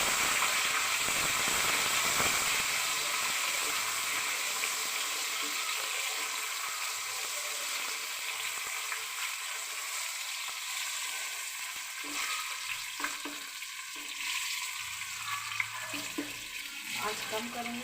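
Cumin and tomatoes frying in a pan for a chickpea pulao, a steady close sizzle that fades slightly midway with occasional stirring scrapes.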